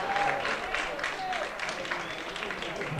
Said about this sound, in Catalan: Espinosa se'n va entre els aplaudiments una miqueta tímids del públic